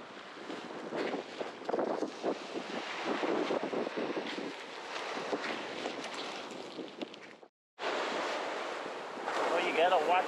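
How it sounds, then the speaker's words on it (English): Ocean surf on Mexico Beach, Florida, rolls in as a constant roar of breaking waves mixed with heavy wind buffeting the microphone, broken by a brief dropout, with a voice faintly present. "You gotta watch out for the waves."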